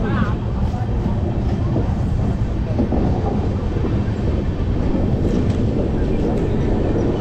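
The Ganadevata Express rolls into Bandel Junction with a continuous, loud, close rumble of wheels and carriages that holds steady throughout, without a break.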